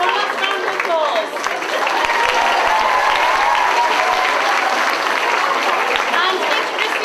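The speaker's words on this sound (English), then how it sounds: "One last round of applause." Loud, sustained applause from a large crowd fills the whole stretch, steady and dense without letup.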